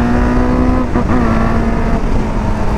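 A Hornet-engined Fan 600 motorcycle with a 2-into-1 exhaust idles and revs loudly up close, a steady buzzing drone that dips and recovers around a brief throttle blip, continuous throughout.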